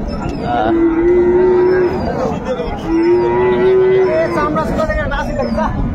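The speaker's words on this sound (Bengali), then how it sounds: "এটা হচ্ছে গাভী" A cow lets out two long, low moos close by at a cattle market, with crowd chatter and voices murmuring in the background.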